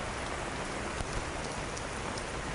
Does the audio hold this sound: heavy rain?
yes